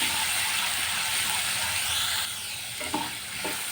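Onions fry in a pan with spices over low heat, giving a steady close sizzle that softens partway through, with a few stirring scrapes near the end.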